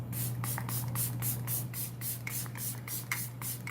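Short hissing spray bursts of face mist come in a quick, steady rhythm, about a dozen puffs misting the face during a makeup routine, close and soft over a constant low hum.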